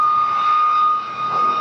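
A P-51 Mustang fighter with a Packard Merlin engine flies past at an airshow, a loud, steady engine drone with a high whine that swells briefly and then eases.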